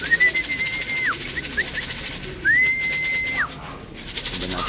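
Racing pigeons in a loft before a race in Sorsogon, with two long rising whistle-like calls and a short chirp in between over a faint background, moderately close and without talk.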